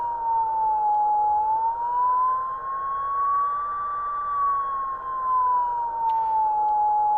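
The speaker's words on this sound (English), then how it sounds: "So let's use the timecode signal as our long tone." A turntable timecode signal played as a long continuous tone with step pitch off, a smooth electronic whine that glides slowly up and back down in pitch, loud and steady with no talking.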